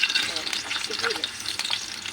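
Garlic and onion sizzle in hot oil while being stirred, a steady bright crackling frying noise with soft scraping of the spoon, close and continuous throughout.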